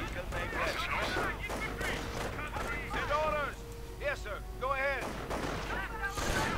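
Gunfire hitting Panzer Grenadier infantry in a World War II strategy video game, with scattered shots and small bursts over steady battle ambience, underneath a commentator talking throughout.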